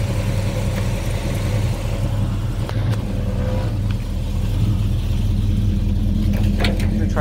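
A Chevrolet Chevelle with a 350 V8 and automatic transmission runs close by with a steady low rumble as it is moved, the engine note holding even with slight variation and no talking.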